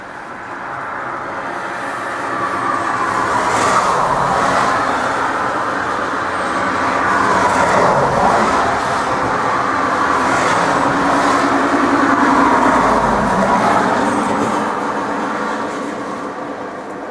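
Road traffic swells and fades past a roadside bus shelter near Port Talbot, several vehicles passing close one after another with a broad whooshing rumble over steady background hum.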